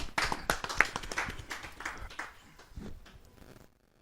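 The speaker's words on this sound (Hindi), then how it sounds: "जरा जोरदार ताली के साथ हम उनका स्वागत करें।" An audience at a Hindi poetry gathering applauds to welcome a poet, a dense burst of clapping that is loudest at first and then thins and fades over a few seconds.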